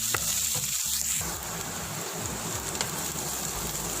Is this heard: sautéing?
yes